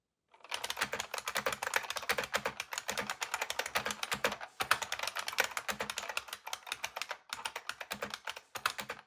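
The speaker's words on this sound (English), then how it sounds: "I hope this short clip can help you perceive the typing experience on this keyboard" Rapid, continuous typing on a buckling spring keyboard with crisp, loud clacking keystrokes in bursts, close to the microphone, with a couple of brief pauses and no talking.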